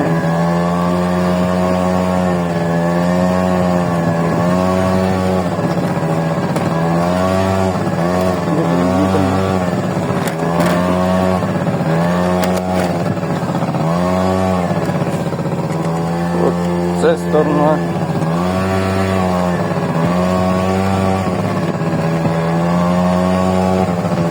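A Honda Dio 27 scooter rides off-road over grass and dirt tracks, its small two-stroke engine droning close and loud with repeated rises and dips in pitch as the throttle is eased on and off.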